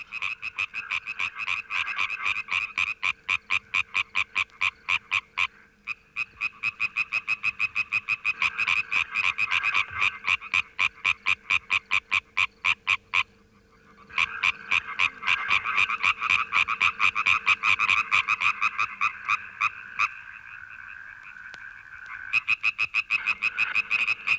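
Many frogs and toads croak at night in a loud, continuous chorus of rapid pulsing calls, pausing briefly a few times before swelling again, with no voices present.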